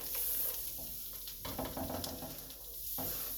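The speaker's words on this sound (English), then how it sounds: "I threw the sausage in, and I'm going to throw in the vegetables" Sausage and vegetables sizzle in a dark gumbo roux, a soft, steady frying hiss broken by stirring and shifting of the pot's contents, fairly quiet and close.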